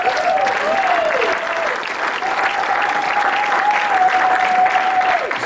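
A church congregation applauds loudly and steadily, a dense wash of clapping that keeps going for several seconds, with a sustained voice or tone carrying over it.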